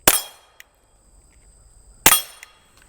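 Two sharp, close suppressed .22 pistol shots about two seconds apart, each a bright metallic crack with a short ringing tail and a faint click between them.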